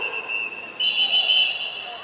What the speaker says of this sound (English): Let that whistle go